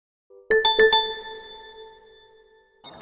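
Mobile phone placing a call at night while waiting near an elementary school: a bright electronic chime tone sounds clearly, three quick pulses that ring on and fade, followed by a brief soft noise at the end.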